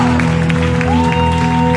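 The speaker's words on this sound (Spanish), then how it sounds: "¿Cuántos aplauden al Señor?" A church congregation applauds steadily and loudly for a couple of seconds, with music tones sustained underneath.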